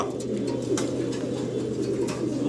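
Racer pigeons at a large farm coo in a dense, unbroken low warble, many birds close together and fairly loud, with no voices.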